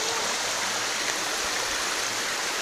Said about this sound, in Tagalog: Falls, mini falls.